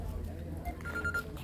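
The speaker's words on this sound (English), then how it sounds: "Sorry about the phone ringing." A telephone rings briefly in the middle, a short tonal chime heard under people talking in a room.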